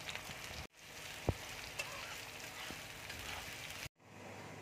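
Chopped onion sizzling in hot oil in a kadai for chicken, a soft, steady hiss of frying with a couple of light clinks, cut off briefly twice.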